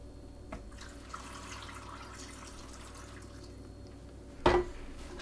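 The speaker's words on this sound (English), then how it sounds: "Let's do water next." Water poured into a blender for a green smoothie, a faint steady trickle with a brief louder splash near the end, heard alone.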